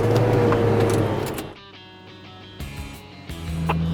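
An off-road vehicle in low range first gear crawling up over ledges on a steep trail, its engine a loud close drone that dips quieter midway and then rises again.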